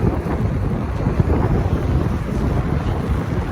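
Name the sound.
strong wind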